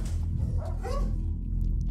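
Cliff, a police dog, lets out a few short barks and yips close by over a low rumbling background.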